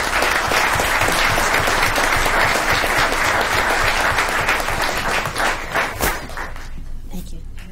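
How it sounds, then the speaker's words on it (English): Audience applause at a school board meeting, dense steady clapping from a room full of people that holds strong for about five seconds and then thins to scattered claps before fading out. "One more round of applause while they're seated."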